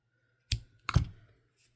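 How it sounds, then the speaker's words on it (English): Two quick, crisp snips of scissors cutting yarn close by, about half a second apart, in an otherwise quiet setting. "take our scissors and do a little snip"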